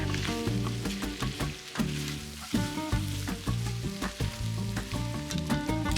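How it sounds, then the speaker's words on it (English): Pork tinga frying and browning in a pot, a dense continuous sizzle running throughout with stirring scrapes, close and fairly loud, alongside tonal background music. "I'm cooking this for 7 or 8 minutes until I start getting some good crispiness"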